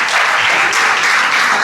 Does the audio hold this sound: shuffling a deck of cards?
no